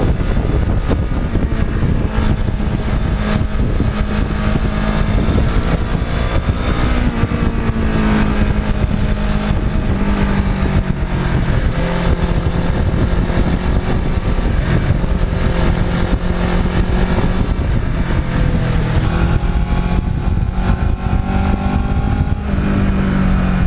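A Kawasaki Ninja sport bike ridden on twisty roads, its engine droning loud and close throughout, rising and falling in pitch as it accelerates and eases off through bends.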